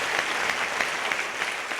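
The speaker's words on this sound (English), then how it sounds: "Let's give a big round of applause for that." Dense, continuous applause from an audience at a Marianne Williamson event in Kelowna, October 2015, after a performance, with fairly loud clapping holding steady throughout.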